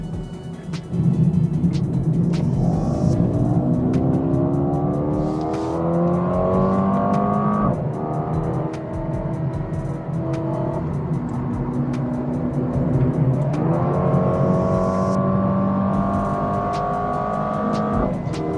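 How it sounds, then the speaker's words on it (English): A 2022 Mercedes-AMG A35 engine revs up and down through gears at Sepang circuit, loud and close, with sharp crackling exhaust pops and bangs scattered throughout. "the pops and bangs in this car sound fantastic"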